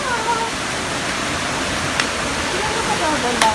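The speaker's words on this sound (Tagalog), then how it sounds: "dito na tayo makita natin yung maliit na falls dito sa Hubo Falls" Small waterfall at Hubo Falls in Tupi, South Cotabato, Philippines, giving a steady, broad rushing wash of falling water close by, constant throughout with no pauses.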